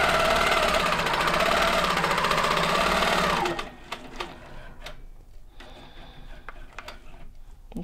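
An HQ quilting sewing machine stitches along a ruler, running loud and steady for a few seconds before stopping, followed by faint clicks and handling sounds.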